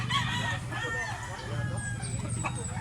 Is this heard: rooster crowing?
yes